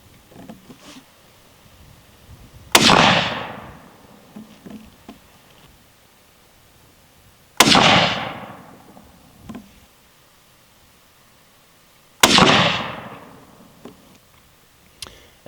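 Three loud, sharp Remington rifle gunshots during a barrel float shim test, each a sudden crack with a decaying outdoor echo, spaced about five seconds apart, with faint rustling between.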